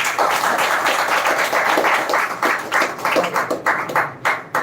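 An audience claps after a speech at a semi-final speaking event: steady, fairly loud applause from many hands, thinning into separate claps near the end, with no voices over it.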